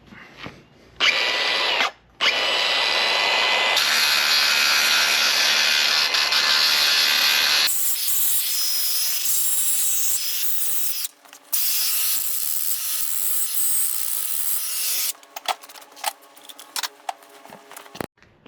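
A power tool grinds and cleans metal surfaces before welding in loud, close bursts, a high harsh whine that cuts in and out with short pauses, then changes pitch and gives way to lighter clattering near the end.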